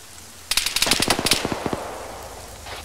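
Video game gunfire: rapid bursts crackle in quick succession for about a second, then stop; a few more shots snap at the end. Loud and close, no voices.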